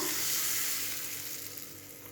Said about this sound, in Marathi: ही फोडणी डाळीच्या चटणीवर टाका